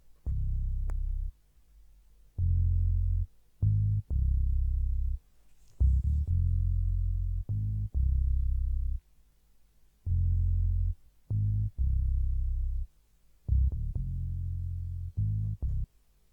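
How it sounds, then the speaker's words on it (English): A deep R&B synth bass plays a pulsing line of short and sustained low notes with brief gaps, alone and fairly loud, with a smooth, rounded tone. "after the lead I added a bass, and this is how the bass sounds like."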